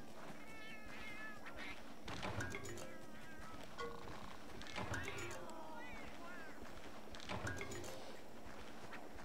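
Several cat meows from the Monster Hunter Generations video game, repeating at intervals amid busy, dense game sound and background noise, fairly faint overall.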